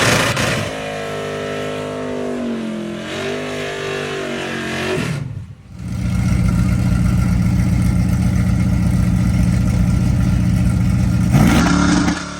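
A ZZ632 engine in an OBS truck revs loud and close, holding a steady roar, dropping off briefly around the middle, then surging back to a sustained, full-throated rev.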